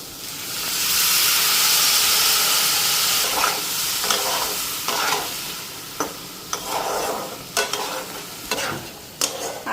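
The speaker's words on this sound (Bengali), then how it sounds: "পেঁয়াজটা হালকা ফ্রাই হয়ে গেছে, বেশি ফ্রাই করুন না" Onion and spices sizzling in a frying pan with a steady hiss, followed by repeated scraping stirs that break into a rhythm of short bursts, close and fairly loud with no talking.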